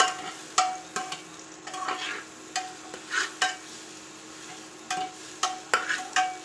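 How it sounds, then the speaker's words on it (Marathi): Chicken biryani in a pot as ground masala is stirred through it: a run of sharp spoon scrapes at an uneven rhythm over a soft, steady sizzle, close and clear with no voices. "तर हा मी यात टाकते व याला चांगलं हलवून घेते।"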